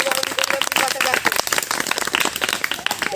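An audience claps at a coaching centre's annual prize distribution ceremony, with dense, uneven applause running throughout and a voice talking over it.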